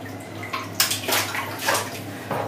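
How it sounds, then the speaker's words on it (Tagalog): Someone washes their feet with tank water, making bursts of splashing and pouring that come close and fairly loud. The bursts repeat in uneven splashes over a low steady hum. "Manghugas ako sa akong tiil."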